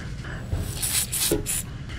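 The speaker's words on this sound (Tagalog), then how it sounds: "Gamit lang tayo ng contact cleaner. Tapos spray lang natin dyan." Contact cleaner sprayed from an aerosol can onto the terminals of a Suzuki Raider 150 FI stock motorcycle horn, heard as three short, close hissing bursts over a low background rumble.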